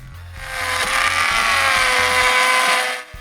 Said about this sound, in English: We're routing the top molding right now.